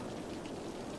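Steady rain falls in the city-building game Cities: Skylines, a continuous even hiss of raindrops on surfaces, soft and uniform throughout with no voices.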